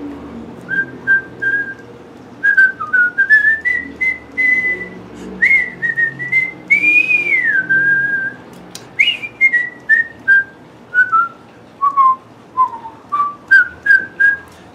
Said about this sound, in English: I'm whistling the tune to you here